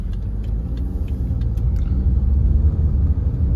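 A used 2014 BMW 520d diesel sedan accelerates in Eco Pro mode, giving a steady, loud, low engine rumble that swells slightly toward the end, with no one talking.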